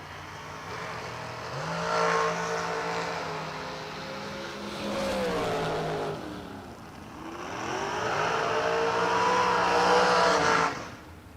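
Drag racing cars in a bottom bulb class at a New Year event roar past, with a sustained, loud engine drone that rises and sweeps in pitch as they accelerate down the strip.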